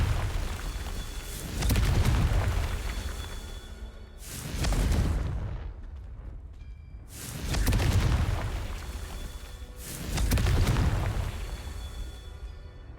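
Confringo explosive spell cast repeatedly in the video game Hogwarts Legacy: four loud, booming blasts with low rumbling bursts, spaced about three seconds apart, each swelling and fading with no talk.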